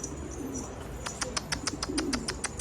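On a snowy rooftop a lone pigeon coos softly, followed by a quick run of sharp, evenly spaced ticking or clicking sounds like wing claps or taps, with no talking.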